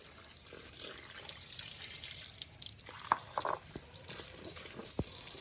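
Cut potatoes being washed under running water, a soft trickle and splashing with a few clearer drips and knocks near the middle and end, fairly quiet.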